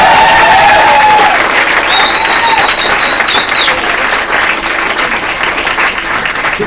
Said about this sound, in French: on applaudit quand même les invités